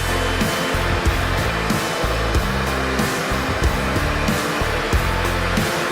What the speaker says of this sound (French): Allumez le sèche-cheveux à sa puissance maximale